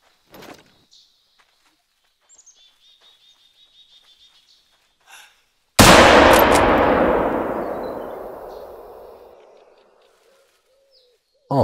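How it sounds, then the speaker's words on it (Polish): A single hunting rifle shot in the video game theHunter: Call of the Wild, a loud sharp crack that rolls off into a long echoing tail lasting several seconds, after sparse faint bird calls. "To był fajny strzał."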